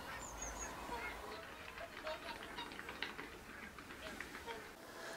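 Whooper swans and geese call at Caerlaverock in Scotland, a faint, distant chorus of overlapping honks over a low, steady outdoor rumble.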